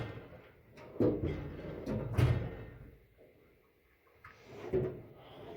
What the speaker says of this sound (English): Let's see if any of these drawers are acting weird.